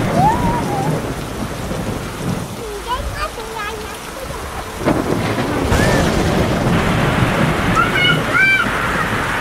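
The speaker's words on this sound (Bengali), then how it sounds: "আমাদের এখানে আজকে অনেক মেঘ করছিল আর খুব বিদ্যুৎ চমকাচ্ছিল, দেখো কত জোরে বিদ্যুৎ চমকাচ্ছে" A thunderstorm with heavy rain pours down loudly and steadily, with rolling thunder underneath, while voices and a child's vocal sounds come and go over the downpour.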